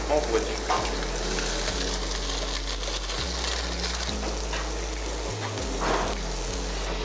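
A grated potato galette from Ardèche, the crique, frying in hot oil, with a loud, dense, continuous crackling sizzle alongside steady low hum throughout.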